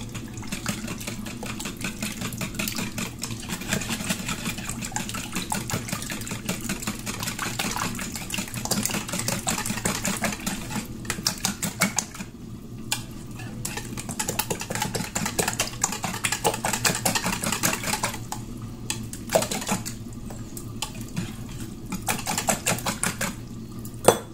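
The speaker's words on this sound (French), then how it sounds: "je rajoute les œufs, le sucre vanillé, le lait, ainsi que le beurre. Je mélange le tout." Eggs, vanilla sugar, milk and butter whisked together in a small mixing bowl for crispy beignet batter, a steady rapid clatter of a utensil against the bowl lasting throughout with brief pauses, close and fairly quiet.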